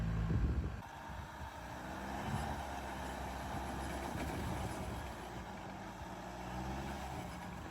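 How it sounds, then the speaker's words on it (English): Engine and exhaust of a 2024 Toyota Tacoma pickup in two-wheel drive, driving through loose sand with a steady low drone and rumble that swells slightly now and then, close by and without talk. "That exhaust note is not great."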